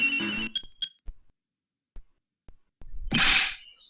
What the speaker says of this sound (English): That sound. That's her cell phone.